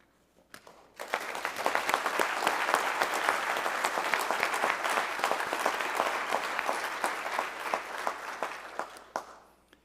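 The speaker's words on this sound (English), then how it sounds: "please join me in a round of applause for Second Lieutenant Nicholas Carpenter." Audience applause at a spring ROTC commissioning ceremony rises quickly after a second of quiet, holds steady and moderately loud, then tapers off to scattered claps.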